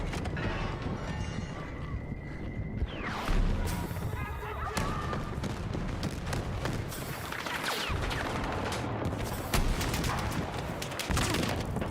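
Automatic AK-4D rifle fire in the Battlefield 6 shooter, with repeated bursts and thumping impacts crowding a dense, loud battle soundscape throughout.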